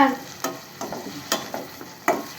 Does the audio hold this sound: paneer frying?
yes